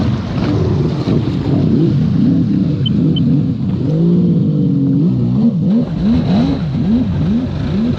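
A 1996 Sea-Doo XP jet ski engine revs up and down repeatedly, loud and close, its pitch rising and falling in quick swoops with a brief steady hold midway.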